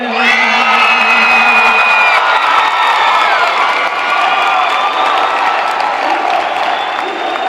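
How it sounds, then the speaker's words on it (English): A large crowd at a 2017 IHSA Class 2A girls volleyball championship game applauds the national anthem soloist and veterans, with steady, loud clapping, whoops and cheers sustained throughout. "One more round of applause for the soloist and our veterans from Quincy, Notre Dame, and St. Thomas More."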